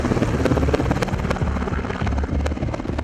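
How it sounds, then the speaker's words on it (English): Helicopters hover and lift off from Sinjar mountain, a loud, steady rotor thump with continuous engine roar filling the scene. "hovering helicopters were taking off from Sinjar mountain"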